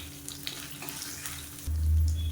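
Garlic, ginger and dried red chillies fry in hot oil, a soft steady sizzle that swells suddenly into a louder, rougher crackle as more goes into the pan.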